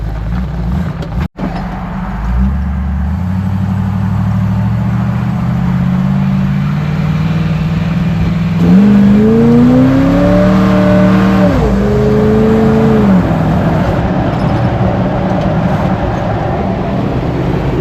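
A Jeep engine idles, then revs up and pulls away on a test drive after a cable transfer-case shifter repair, the rising engine tone climbing and holding steady as it drives off nearby.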